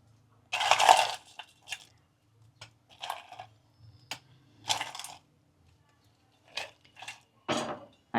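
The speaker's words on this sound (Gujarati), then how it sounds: "હવે ઉપરથી આપણે થોડો બરફ નાખીએ।" Ice cubes dropped into a mixer jar holding coriander mint green chutney, heard as a series of separate hard clinks and rattles at close range, spaced irregularly across quiet moments.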